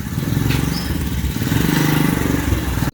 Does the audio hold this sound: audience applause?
no